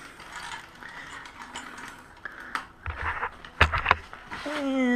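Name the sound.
bicycle wheel being pulled out from under the brake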